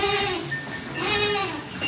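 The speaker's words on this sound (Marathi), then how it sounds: "हे बघा ही एक सुंदर शेळी" A Beetal goat bleats on a goat farm, a wavering nasal call heard close amid noisy, busy outdoor background over two seconds.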